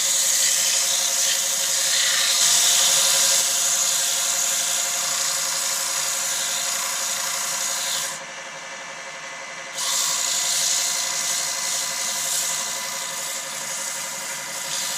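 Sandpaper of 120 grit rubs against a spinning hawthorn wood bowl on a lathe, giving a continuous hiss over the steady motor hum, briefly softer midway as the paper lifts, then returning.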